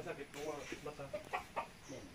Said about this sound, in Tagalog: So ayan, maghuhuli si Jano ng manok